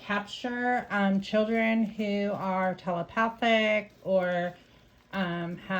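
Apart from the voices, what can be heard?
No everyday noises stand out.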